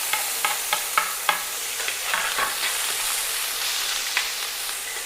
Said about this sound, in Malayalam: പിന്നെ മുറിച്ച ഓണിയൻസ് ഇട്ട് കൊടുക്കാം.